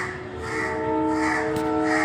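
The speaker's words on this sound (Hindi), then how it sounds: "ये देखो अब हर थोड़ी देर में चिड़िया विड़िया आती रहेंगी" A crow caws loudly and steadily over a constant background hum in an early-morning outdoor residential neighbourhood, with other birds calling faintly.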